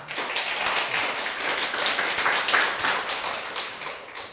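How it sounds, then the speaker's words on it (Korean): Clapping from an audience at a prayer gathering, a dense, even patter of many hands that holds steady for several seconds before easing slightly at the end. "박수 한번 하십시오."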